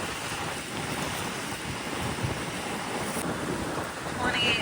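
Strong wind of about 28 knots roars steadily around a sailboat at anchor, with constant gusty rushing and water noise filling the scene at an even level throughout.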